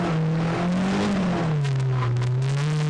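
A car engine held at around 4000 rpm during drift practice, a loud steady engine drone with a slight drop in pitch midway and faint crackle, close and continuous with no talk.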